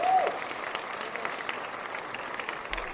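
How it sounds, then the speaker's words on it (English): Steady, fairly faint applause from a group during a live stream, a continuous patter of claps holding an even level for about three seconds with no voices over it. "Another round of applause."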